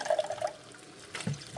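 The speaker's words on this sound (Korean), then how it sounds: "이제 이거 아까우니까 여기다가 물 넣고" Brief splashing of water poured into a pan on an induction cooktop, a short gurgling burst early and another near the end, with faint sizzling between.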